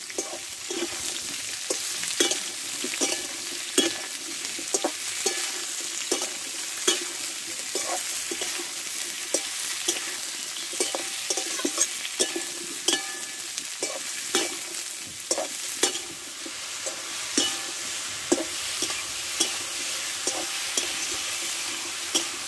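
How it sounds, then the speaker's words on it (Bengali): Potatoes and ridge gourd stir-fried together in a pan, sizzling steadily for a long stretch while a spatula scrapes and taps in a busy, uneven rhythm, close and alone with no voices. "এইবার এর মধ্যে আমি কেটে রাখা ধুদুলগুলো দিয়ে দেবো, দিয়ে একসঙ্গে কষে নেবো"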